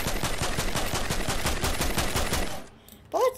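Rapid automatic rifle fire from the Primal Rifle in a video game, a steady burst of loud, closely spaced shots lasting a few seconds before cutting off, followed by a brief mechanical clatter.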